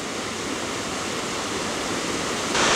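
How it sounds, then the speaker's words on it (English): A mountain stream in New Hampshire flows steadily, a continuous close rush of water with no voices, growing slightly louder at the very end. "Here's the first stream I've actually come to."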